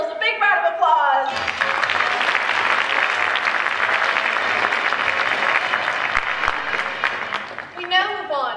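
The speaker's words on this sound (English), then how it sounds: "Give yourselves a big round of applause." Audience at a high school stage performance of The Complete History of America (Abridged) breaks into loud, sustained applause lasting about seven seconds, with a performer's voice heard just before it starts and again as it fades.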